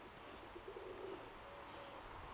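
A pigeon gives a short, soft cooing call early on, faint against a steady background hiss, then quiet follows.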